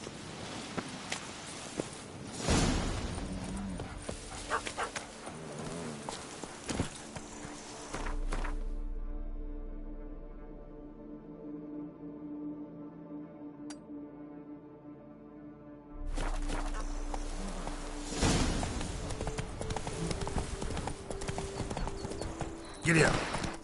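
Horse hooves clip-clop steadily in The Witcher 3, a rhythmic trot of even hoofbeats at close range, broken by a quieter middle stretch and then returning, with speech over parts of it.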